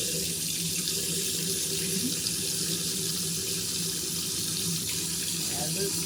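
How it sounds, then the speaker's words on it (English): Hot water runs steadily from a tap into a sink being filled for washing laundry by hand, a continuous close hiss and splash throughout with no talk. "we're going to put in some hot water and our suds"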